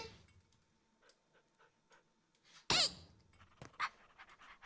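A dog in a video game pants in quick soft breaths amid squeaky sounds, with one loud sharp burst partway through and a few fainter squeaks after.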